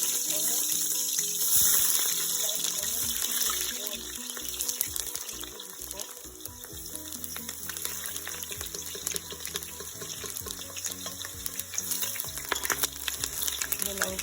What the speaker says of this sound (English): the first ingredients to pour into this oil is the onions